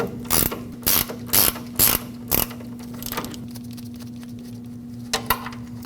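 Ratchet wrench clicking through bursts of quick pawl clicks, close and crisp, loosening an 18mm lower control arm mounting nut on a 2005-2021 Nissan Frontier 2WD, with a pause before a final short burst.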